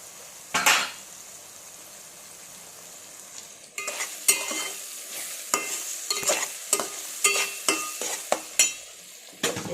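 Mutton pieces added to a pan of onions and ginger-garlic paste, a quiet sizzle broken by an early clatter, then a run of rhythmic metal spoon scrapes and clanks as the meat is stirred.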